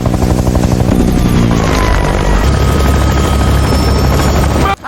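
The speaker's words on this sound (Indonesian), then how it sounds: "Saat helikopter itu melintas di tengah hutan" Helicopter flying over a forest in a film scene, its loud, steady rotor thump and engine roar filling the clip continuously before cutting off abruptly at the end.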